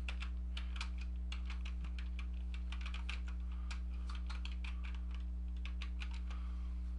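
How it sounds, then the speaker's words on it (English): Steady typing on a computer keyboard, quick irregular key clicks close to the mic, alone over a constant electrical hum. "I'm just going to type in"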